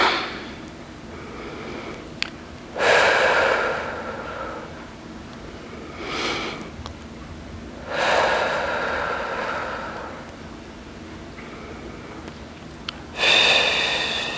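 Heavy breaths during an at-home arm stretch exercise, four loud, drawn-out exhales spaced a few seconds apart, close to the mic over a quiet background, with no talking.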